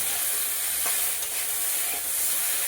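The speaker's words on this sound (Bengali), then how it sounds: "ভাজা হয়ে এসেছে, ভালো করে নেড়ে চেড়ে নিয়ে এবার এতে জল দিয়ে দেবো" Drumsticks and potatoes frying for a fish curry give off a loud, steady sizzle with a couple of soft stirring scrapes, close up and unbroken, with no voices.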